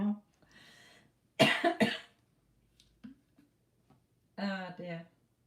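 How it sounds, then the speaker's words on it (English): A person coughs in a short, sharp burst, with quiet talking before and after. "Set me up coughing now."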